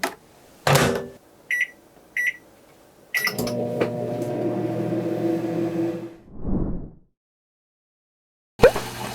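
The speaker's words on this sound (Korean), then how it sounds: "전자레인지 찜기에 넣고 20분 정도 돌려줄게요" A few short beeps and clunks, then a microwave oven with a steamer inside hums steadily for several seconds before stopping, followed by quiet and another clunk.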